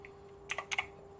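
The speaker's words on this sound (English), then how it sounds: "Just typing it in," A computer keyboard gives four quick, crisp keystrokes in two pairs, close and clear against a low steady hum while someone trades stocks on a live stream, with no speech.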